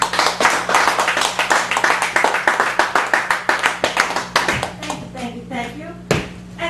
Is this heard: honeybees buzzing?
no